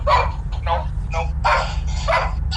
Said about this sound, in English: Yeah, the dog barking.